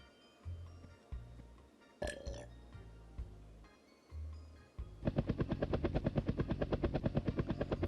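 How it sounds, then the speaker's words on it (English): A helicopter takes off in the Dr. Panda's Hospital video game: a few low, soft thuds, then a steady, rapid rotor pulsing that starts suddenly and stays loud to the end, with no talking. "the helicopter is off to get more patients"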